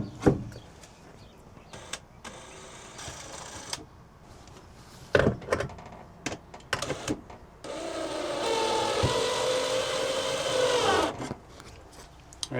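A power drill drives screws to mount a shelf inside a cargo trailer, with short handling knocks and scrapes, then a sustained whirring burst of several seconds close by.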